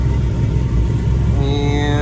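A truck engine idles steadily and loudly, with a deep rumble throughout and a faint rising whine toward the end.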